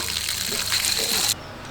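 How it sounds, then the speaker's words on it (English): A garden hose that won't shut off sprays water on a homestead in a loud, hissing gush that cuts abruptly near the end, leaving a quieter background. "There's water that doesn't shut off!"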